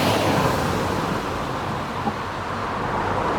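Continuous broadband wash of traffic on a busy road near the TT course, a steady distant roar without distinct single vehicles passing.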